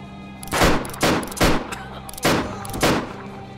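Gunshots in a post-apocalyptic video game: five loud, sharp blasts fired at uneven intervals over a few seconds, each with a short decaying tail, and no talking.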